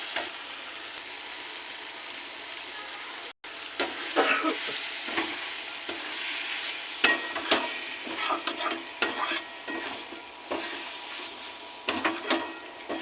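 A spoon stirs cabbage and prawn ghonto as it fries in a pan. Intermittent scraping and clinking strokes ring out over a soft sizzle, with one sharp break early on and irregular bursts of stirring after it, and no speech.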